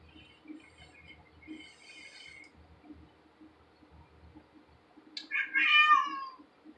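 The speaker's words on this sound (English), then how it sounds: "Skittles, you are the most annoying cat in the world." A cat meows loudly and close by near the end, a drawn-out cry after a few fainter earlier mews over quiet background hum.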